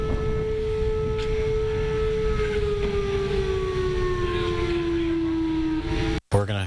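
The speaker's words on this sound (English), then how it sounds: "the city even tested the tornado sirens during our time here" A city tornado siren under test wails in a long, slowly falling tone, loud and sustained with a distant outdoor character, before cutting off abruptly near the end.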